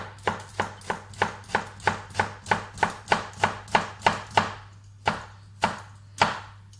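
Knife chopping through an onion on a board for lasagne, a steady run of sharp close taps, about sixteen evenly spaced cuts slowing to a few spaced strokes at the end, over a low constant hum.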